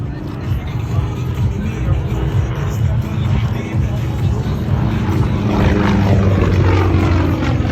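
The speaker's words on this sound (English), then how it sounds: "He's now snap rolling the airplane again." A Yak 18T propeller airplane flying aerobatics with snap rolls, its loud engine drone rising and shifting in pitch over a crowd murmur, with an announcer talking over it.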